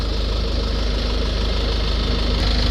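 A Vauxhall Vivaro van's diesel engine, with an AdBlue and NOx sensor fault, idles close by with a steady, low, rhythmic knocking chug that runs unbroken throughout, no voices present.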